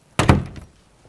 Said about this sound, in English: First clue is opening the door.